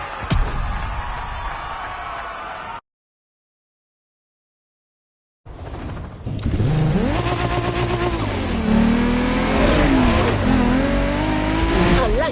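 A Triumph sports car in the racing game The Crew Motorfest revs hard and accelerates, a loud, close engine roar with rising and falling pitch sweeps, preceded by a brief burst and a short silent gap.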